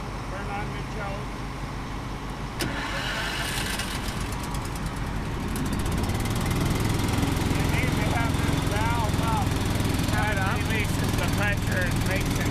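Small farm engine pull-started with the choke on, failing to catch: rough engine noise swells and churns loudly from partway through, with voices talking over it.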